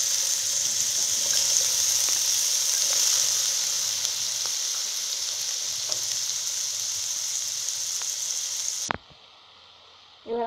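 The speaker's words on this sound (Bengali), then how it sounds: "এবার ভাজার জন্য আলুগুলোকে গরম তেলে আস্তে আস্তে দিয়ে দিই।" Potatoes sizzle steadily in hot oil for a cabbage and fish-head curry, a dense, even crackle with faint pops that runs for about nine seconds and then cuts off abruptly into near silence.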